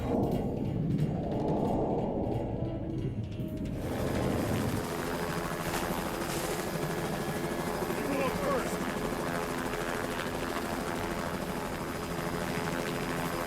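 Helicopters fly close overhead in a disaster-film scene, a loud, continuous rotor roar and engine drone that swells in after a muffled opening and holds steady to the end.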